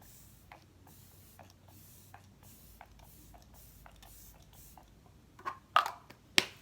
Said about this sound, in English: this is typically when I go in with a setting spray